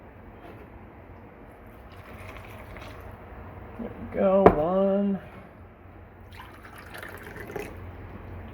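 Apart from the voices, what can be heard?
water poured into a liquid measuring cup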